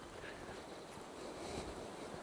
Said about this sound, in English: It's quite windy today